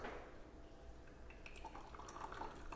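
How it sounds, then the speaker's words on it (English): Hot water trickles slowly over coffee grounds in a Bodum pour-over coffee maker, a faint, steady pouring with light drips and splashes in a quiet kitchen. "we want to pour in a circular motion so the grounds"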